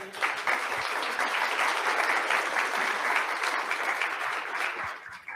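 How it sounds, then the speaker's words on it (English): Warm, steady audience applause closing an ESG reporting session, many hands clapping together at an even level for several seconds before tapering off. "We give them a round of applause."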